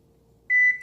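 A single electronic beep from a kitchen oven's control panel as the cook time is set for baking jollof rice, short and clear in a quiet room.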